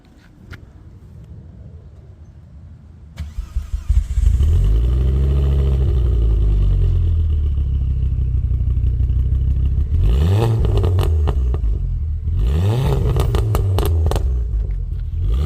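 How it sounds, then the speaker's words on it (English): A Ford ST car engine cranks and starts after a few seconds of quiet, settles into a loud steady idle, then is revved sharply twice near the end, each rev rising and falling. "So we'll start up the ST,"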